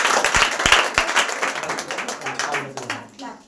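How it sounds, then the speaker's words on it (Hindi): An audience claps for a student at a school award ceremony in Nalanda district. The applause is brief and fairly loud, with sharp claps that thin out over a few seconds and some voices mixed in. "तालियां।"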